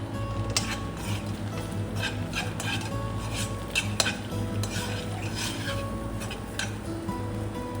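Onion being sautéed in oil, with a spoon repeatedly scraping and clinking against the pan in an uneven rhythm over a low, faint sizzle, close by.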